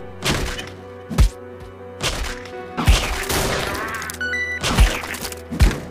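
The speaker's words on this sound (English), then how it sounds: "Oh, the MG mow over all of them." Machine gun fire in the zombie video game Dead Ahead Zombie Warfare, repeated heavy thudding bursts with booming impacts and clattering effects, loud and close.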